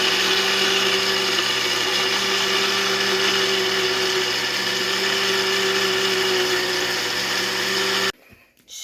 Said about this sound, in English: And the blending process, blend it till it's smooth.